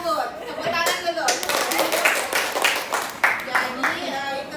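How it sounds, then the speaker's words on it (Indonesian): A group of adults in a training session claps hands together, sharp uneven bursts of clapping mixed with chuckles and chatter, fairly close and lively over a few seconds. "Tepuk tangan dulu."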